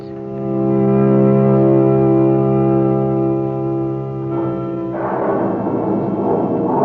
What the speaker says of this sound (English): The storm swoops down. Rain begins to fall.